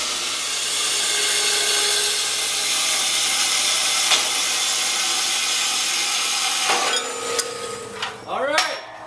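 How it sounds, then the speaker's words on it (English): A new Ellis saw cuts steel plate of 3/16 and 1/8 inch thickness for a welded bell, giving a steady, loud grinding band-saw drone throughout, followed near the end by sharp metallic clanks and ringing taps as pieces are handled. "with this new Ellis saw, that only takes a couple of seconds."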